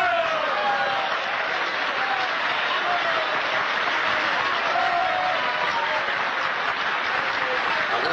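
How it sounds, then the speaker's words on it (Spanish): Audience applause following a speech in a 1952 Cantinflas film, a steady, fairly faint wash of many hands clapping that holds evenly for about eight seconds. "Agradezco estos aplausos tan desnutridos, a la par que merecidos"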